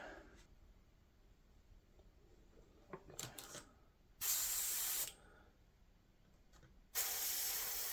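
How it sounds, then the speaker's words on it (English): Airbrush or spray can painting a 1/350 scale Refit Enterprise model kit, two distinct bursts of loud close spray hiss, each about a second long, separated by quiet with faint handling clicks and taps. "And then we'll go ahead and start spraying."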